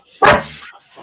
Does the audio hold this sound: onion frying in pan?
no